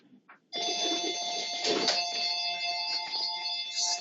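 A phone rings with a steady electronic tone, continuous and fairly close, with a brief faint noise just before it starts.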